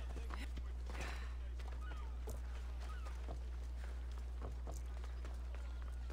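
Soft, irregular hoof clops of a horse walking in the video game Assassin's Creed: Odyssey, set against a steady low hum with faint background noise.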